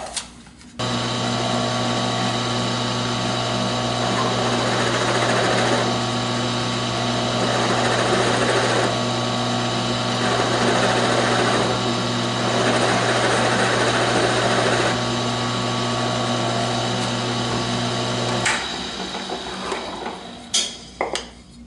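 A drill with a 3/4 inch bit bores steadily through an octopus push stick for about eighteen seconds, a loud, even whine and hum that cuts off abruptly.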